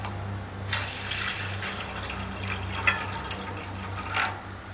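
Water splashes and trickles from a running tap into a cooking pot, with a few louder splashes over a low steady hum.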